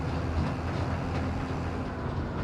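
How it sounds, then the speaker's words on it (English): A train rolls along the track in the Farming Simulator 25 video game, a steady rumble of wheels with faint clatter, continuous and close, with no voices. "there's a train going backwards still"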